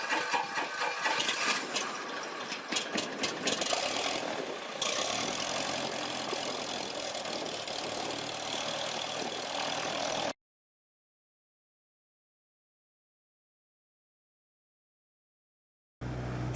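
Cessna 172M light airplane engine cranking and catching, then running at a rough, knocking idle, loud and close, before cutting to silence and briefly resuming at the end.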